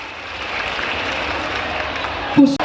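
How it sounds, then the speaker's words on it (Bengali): A crowd applauds at a political rally in Baharampur for Chief Minister Mamata Banerjee's programme. Dense, even clapping carries on throughout, and a brief loud thump comes at the end. "এদের জন্য কিন্তু একটা জোরে করতালি দেওয়া দরকার"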